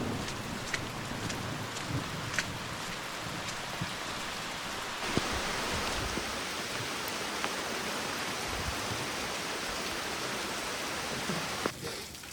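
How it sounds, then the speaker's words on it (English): Steady rain falls through the whole stretch during off-grid roof work, a dense even hiss with scattered close drops striking, and no talk. "I got that water off just in time for it to start raining again."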